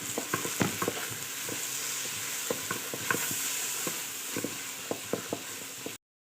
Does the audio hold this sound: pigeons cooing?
no